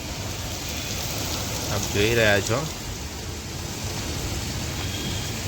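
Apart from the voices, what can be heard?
heavy rain falling outside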